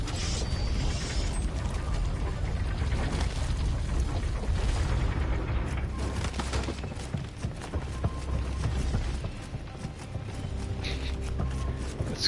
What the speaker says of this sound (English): Nobunaga's very luxurious elevator.